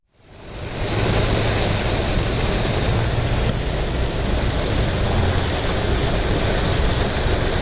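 Floodwater after heavy rain crashes down the Dehena Kanda waterfall in Ratnapura, Sri Lanka, swelling within the first second into a loud, constant roar that continues without a break.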